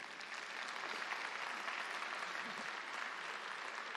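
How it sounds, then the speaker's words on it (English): Sustained applause from a forum audience at the opening of the World Local Production Forum, a steady dense patter of clapping throughout, fairly distant and even in level. "can we have a big round of applause, everyone?"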